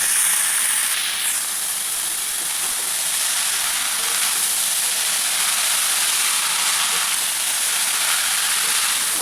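Chopped banana flower hits a hot pan with shrimp cooking nearby, setting off a loud, continuous hissing sizzle that stays steady and close throughout.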